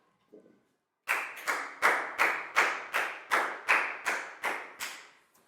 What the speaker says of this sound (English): Big round of applause for Down, please, guys.